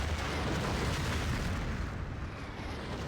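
Artillery blast in the Battlefield 2 video game, a sustained loud rumbling boom that holds steady across the moment and tails off slightly, with no talk over it.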